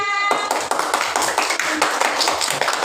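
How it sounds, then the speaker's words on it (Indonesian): A group of schoolchildren in a classroom clap their hands together in a brisk, dense round of applause, close and continuous throughout. "Tepuk tangan."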